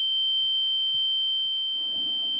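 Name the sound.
fire alarm sounding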